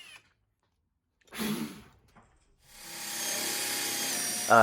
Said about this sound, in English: I'll use a spade bit to carefully make 3 holes for my leaf clover.